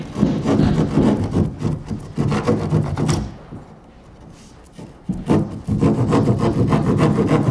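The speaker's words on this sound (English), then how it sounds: "It just needs a quick trim before I push this corner home to a snug fit." A drywall panel being trimmed, bursts of rough rasping strokes in a back-and-forth rhythm, close and loud, pausing briefly midway before resuming.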